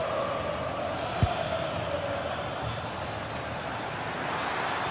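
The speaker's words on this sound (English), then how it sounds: "The crowd certainly think so. Just listen to them." Stadium crowd in a football video game, a steady distant roar of many voices with a brief low thump, sustained and moderately loud throughout.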